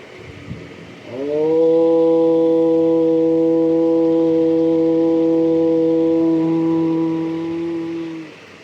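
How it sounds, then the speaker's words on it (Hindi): A single long, deep, steady chant of "Om" sustained for about seven seconds, rich and resonant, tapering gently at the end. "लंबे गहरे ओम ध्वनि का उच्चारण कर रहे हैं"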